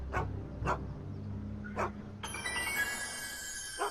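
Einstein, the dog in the Back to the Future video game, gives three sharp, evenly spaced barks over a low hum of game background music, followed by a bright ringing shimmer near the end.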